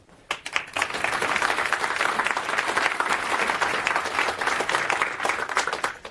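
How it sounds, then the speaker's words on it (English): A conference audience claps for an incoming speaker: after a brief quiet start the clapping swells quickly into steady, fairly loud applause that carries on for several seconds with no talk over it. "Okay, so round of applause."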